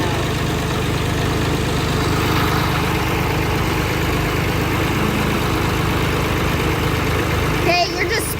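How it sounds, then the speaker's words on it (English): Two heavy tractor engines roar steadily and loudly without pause while pulling a house, a low rumbling drone that fills the whole scene, with a brief voice near the end. "Now have 2 tractors to pull the house out."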